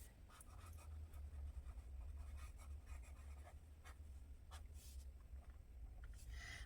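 A pen dragged across a bullet journal page to split it in half gives a soft, steady scratching, faint and close, with a few sharper strokes over a low constant hum.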